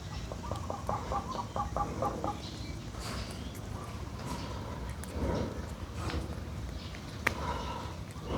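A chicken clucks in a rapid run of short, close calls, then fades into a busy outdoor background of rustling and scattered knocks.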